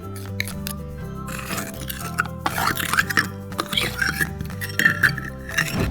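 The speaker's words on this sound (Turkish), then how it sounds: "Şimdi biraz şeker ilave edeceğim. İki kaşık yeterli olacak." Spoon scooping sugar into carrot cake batter in a toy cafe, small clinks and scrapes of utensil against a bowl under continuous talk and background music.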